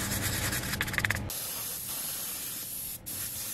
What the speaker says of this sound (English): Right when you spray something on it, you can notice